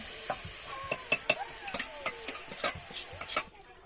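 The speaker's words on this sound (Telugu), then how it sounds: "పనసకూరని అయితే యాడ్ చేస్తున్నాడు" Jackfruit curry stirred into tomatoes frying in a pan, with a spoon scraping and clinking against the pan in quick irregular strokes over a steady close sizzle.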